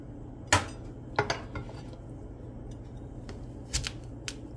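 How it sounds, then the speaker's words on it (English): A sharp knife cuts a peeled yam into 1 inch thick slices, giving a few separate crisp chops and taps on a board with quiet gaps between them. "And now you will be cutting on the yam."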